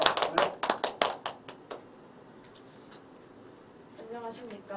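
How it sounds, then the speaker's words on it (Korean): Sparse hand claps from an audience welcoming a high school student presenter at a youth forum on filial piety, a burst of claps that quickly thins out and fades, followed by quiet room tone and a brief voice. "여러분 박수로 환영해 주세요."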